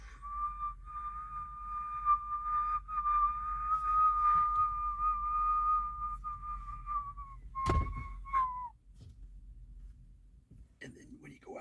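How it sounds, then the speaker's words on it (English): A person whistles one long steady tone for several seconds, whistling inward and outward, then a short thump and a brief second whistle fading out. "Did you know that you can whistle inward and outward?"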